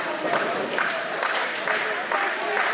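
A live pro wrestling crowd cheers and applauds in the hall, with a continuous mass of clapping and shouting that stays loud and steady throughout, while a commentator talks over it.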